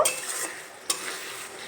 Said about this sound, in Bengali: টমেটো দিয়ে আবার একটু নেড়ে চেড়ে নেব